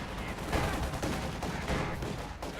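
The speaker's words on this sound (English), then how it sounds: "Dushka, anti-tank, and they're firing away" Rapid bursts of heavy machine gun fire from a Dushka in the Company of Heroes 2 video game crackle continuously, dense overlapping shots amid other battle gunfire at moderate loudness.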